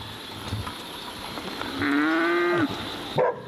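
A cow lets out one long, loud moo at mid distance while a shepherd walks his herd to pasture in the Balkans, over steady outdoor background noise.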